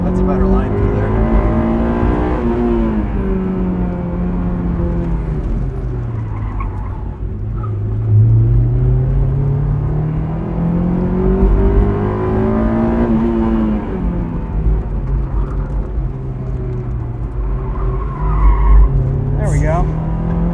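A 2001 Honda S2000 is pushed hard around a track on a first shakedown, its engine droning and rising and falling through the corners, with squealing tires and a voice talking over it.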